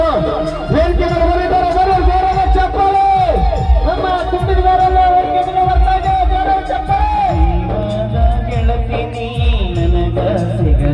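A crowd at a stage performance cheers, whoops and yells for a comedian-singer arriving on stage at a Kannada folk music event. The loud, continuous crowd noise mixes with singing and music throughout.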